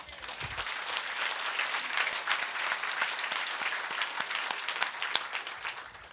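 A congregation at a Korean Sunday worship service gives sustained applause, even dense clapping with a few sharper claps standing out, moderately distant and steady throughout.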